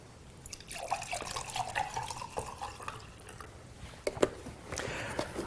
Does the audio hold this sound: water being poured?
yes